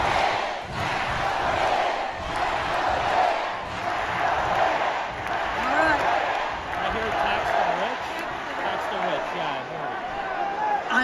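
A large political rally crowd turning on a politician as she speaks on stage, a dense swell of shouting and jeering voices that rises and falls continuously, loud and close, with an amplified voice mixed in.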